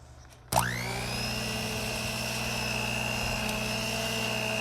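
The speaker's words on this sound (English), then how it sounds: "then I use the hand mixer to finish it up" An electric hand mixer starts abruptly and then whirs at a steady high pitch as it beats cake batter for a cream cheese pound cake, close and continuous with no voices.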